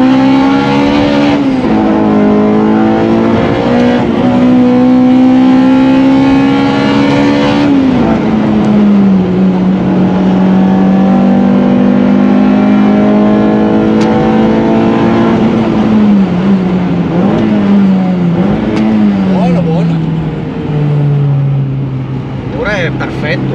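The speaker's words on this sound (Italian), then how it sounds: "Facciamo un po' di accelerata e vediamo un po' come suona da dentro." Honda Integra Type R DC2 with decat and Magnaflow exhaust accelerating, heard from inside the cabin: loud, steady engine drone rising in pitch, with dips at shifts and strong intake noise, continuous throughout.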